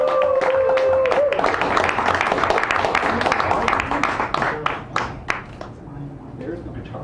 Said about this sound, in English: Give her a big warm round of sacred applause.